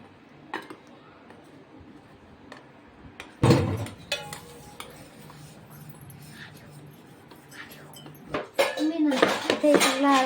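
A spoon clinks and scrapes against a bowl while mixing biscuit cake batter, in scattered bursts with a busier stretch near the end, and a quiet voice occasionally in the background.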